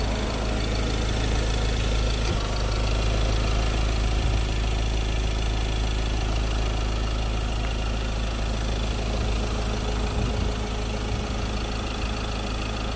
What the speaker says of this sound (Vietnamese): Và đây là tiếng động cơ đang hoạt động, toàn bộ động cơ chạy khá là êm.